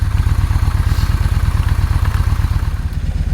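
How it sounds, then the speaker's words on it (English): A Yamaha 950 motorcycle engine runs steadily nearby, a loud rhythmic low thumping idle that holds constant throughout. "While the motorcycle is running"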